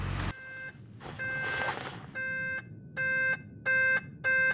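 Skoda car parking sensor beeping in repeated electronic tone bursts that come faster and louder as the sequence goes on, each beep a steady harmonic chime, with no voices.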